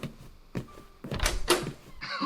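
A door thuds and swings open as a radio play sound effect, two knocks or bumps followed by a louder clatter of the door, with a voice briefly heard in the background.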